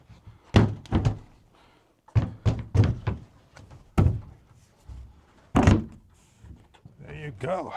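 A series of heavy wooden thunks as a door is knocked into its frame, irregular blows with short pauses and a voice speaking briefly near the end.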